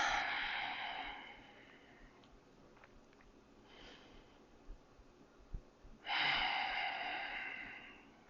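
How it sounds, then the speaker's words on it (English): Slow, steady breathing during a shoulder stretching routine: two long, soft exhales open and close the stretch, with a quiet pause and a few faint sniffs between them, close and alone. "Slow and steady breath."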